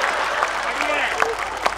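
Audience clapping at a Hindi kavi sammelan poetry event, a short burst of fairly loud applause with a faint voice tone sliding through it.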